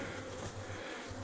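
Honeybees buzz steadily from an opened observation hive with its glass panels removed, a close, continuous droning hum with no talk.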